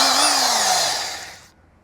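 A finger sander works on the body of a Cosworth car under restoration, giving a high, steady whine with a falling motor tone that winds down and cuts off cleanly near the end.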